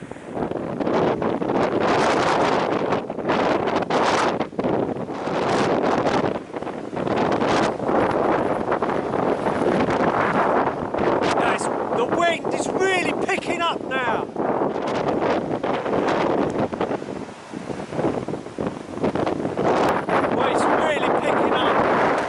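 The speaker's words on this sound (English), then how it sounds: "There was some real big gusts going on there." Storm Eunice drives strong wind gusts across a UK smallholding, buffeting the microphone with a loud, continuous roar that surges and eases. A voice seems to be partly buried under the noise.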